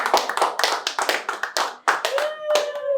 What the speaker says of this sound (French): Est-ce qu'on peut applaudir pour Denise?